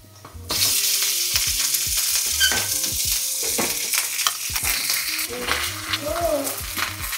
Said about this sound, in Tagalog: ilagay na natin tong beef